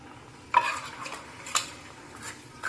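Ground coconut paste is scraped from a container into a metal pot of spinach, with several sharp clinks and knocks of a utensil against the vessel spaced about a second apart amid quiet kitchen background.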